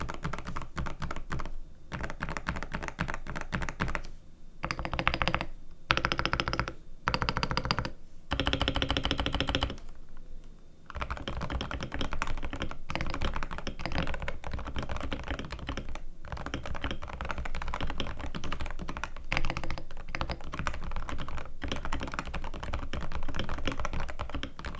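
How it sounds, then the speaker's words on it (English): Continuous typing on an ADHE mechanical keyboard fitted with Lecker switches: dense, soft, muted key clacks in a steady stream for about 25 seconds, close and alone with brief pauses. "Let's do a quick sound test of the ADHE so that we can get an idea of how it sounds with those new"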